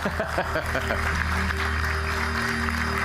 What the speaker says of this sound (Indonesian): Bung Haris Sasar, kita berikan tepuk tangan.